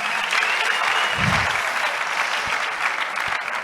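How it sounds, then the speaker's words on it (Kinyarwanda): Worshippers in a church clap loudly and continuously, a full room of hands praising God. The applause holds steady for several seconds with no pause. "twongere dukomere Imana amashyi cyane"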